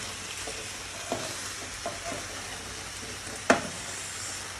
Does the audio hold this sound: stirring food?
yes